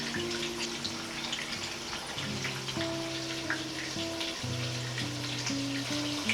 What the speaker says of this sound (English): Just let it stir fry. Okay. Just let it keep frying